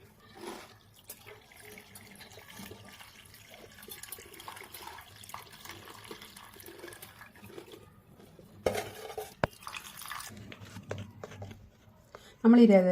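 Jaggery and tamarind water, boiled together, being squeezed and strained by hand in a kitchen for panipuri: soft wet squelching and trickling, with a sharper clatter of a vessel near the end.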